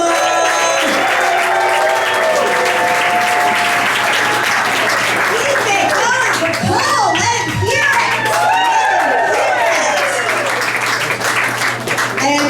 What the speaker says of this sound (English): start clapping and make it loud for Leah Bonnema.